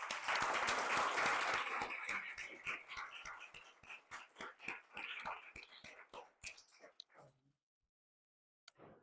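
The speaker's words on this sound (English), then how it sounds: "I would like that we also give applause to the organizer of the session" Applause at an algebra colloquium session starts thick and loud, then thins into scattered individual claps that fade out, with a voice or two briefly underneath.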